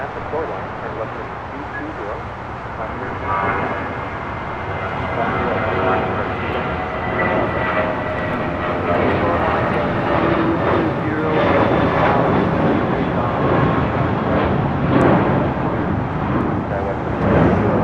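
Heavy jet airliner arriving at LAX on the north side, a continuous broad jet engine roar that grows louder and holds steady as the aircraft passes, with faint talk underneath.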